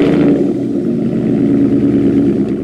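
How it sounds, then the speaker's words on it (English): A Ford F150 pickup fitted with a Borla Atak exhaust rumbles loud and close with a deep, steady engine drone that stays at a constant level throughout, without a clear rev climb. "the first real modification we did to the truck was the Borla Atak exhaust system"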